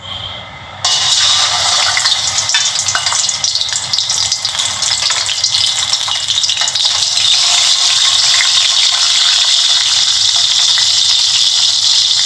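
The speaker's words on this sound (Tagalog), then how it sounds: "Then, prituhin muna natin ang isda." Kingfish dropped into very hot oil in a pan: after a brief quiet moment, a sudden loud burst of sizzling erupts and holds as a dense, steady roar, close up with no speech.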